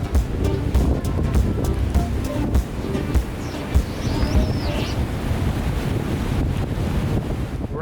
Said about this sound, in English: have those big waves crashing in behind him